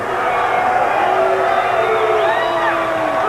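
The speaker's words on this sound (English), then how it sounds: "as you could hear by the crowd's response to that, they were not too pleased over what just happened." A wrestling arena crowd reacts to Ric Flair retaining the NWA World Heavyweight Championship, a loud, sustained roar of booing and shouting voices with rising jeers.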